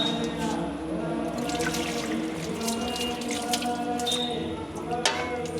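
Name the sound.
water poured while bathing a beagle puppy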